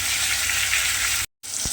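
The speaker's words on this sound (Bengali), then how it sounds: "এভাবে উল্টে পাল্টে খুব ভালোভাবে শিমগুলোকে প্রথমে আমি ভেজে নেব" Flat beans fry in oil in a pan over low gas with a steady, close sizzling hiss. The sound cuts out briefly near the end, then resumes with a soft knock, and no one speaks.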